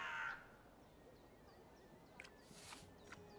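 A crow caws in the video game Dreamfall Chapters, a few short, harsh calls standing out clearly against a quiet ambient background after a brief opening sound.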